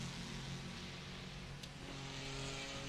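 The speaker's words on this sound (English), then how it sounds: "Alejandro Sanchez makes his way out of the pit lane meantime as the Porsche Cup class leader" A Porsche Cup class race car pulling out of the pit lane at the Nürburgring 24 Hours, its engine a steady, distant drone under a continuous wash of circuit noise.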